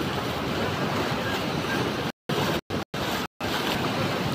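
Fast floodwater surges and churns in waves at the Majalgaon dam, where three rivers meet, a loud continuous roar that cuts out in several brief gaps before resuming.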